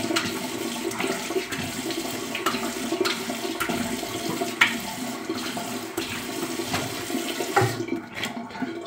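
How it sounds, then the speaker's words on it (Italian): Hot tap water runs steadily into a bathroom sink during a wet shave, with splashing as a face is quickly rinsed, a continuous near rush with a few sharper splashes. "Io lavo la faccia velocemente con acqua calda"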